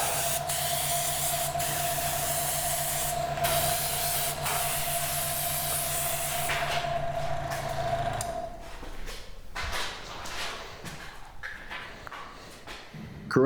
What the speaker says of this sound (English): now you can see that I'm adding in that white base coat